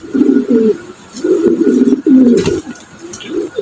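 Running Modena pigeons cooing up close, a series of loud, throaty rolling coos in short bursts with brief pauses between them.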